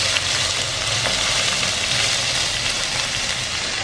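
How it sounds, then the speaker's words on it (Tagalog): Onion and tomato frying in a pan, a loud, continuous sizzle close up that holds steady without pause. "Unahin natin yung baloya. Yung sibuyas. Saka yung kamatis."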